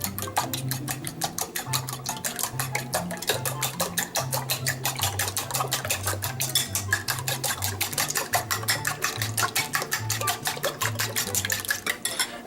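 Eggs being shaken inside a container for Korean rolled omelette, a rapid, steady rattling rhythm of many quick knocks, close and loud, continuing throughout without speech.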